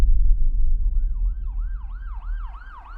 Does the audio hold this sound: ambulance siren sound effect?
yes